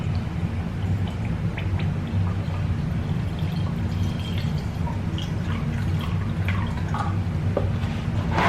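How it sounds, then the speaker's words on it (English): Vinegar is poured over a rock and drips and trickles steadily onto its surface, with small scattered splashes over a constant low background hum, close and moderately quiet. "pour vinegar, because vinegar is an acid"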